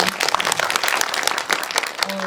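Audience applause at a film screening talk in a cinematheque hall, a short burst of dense clapping from a seated crowd with some overlapping voices.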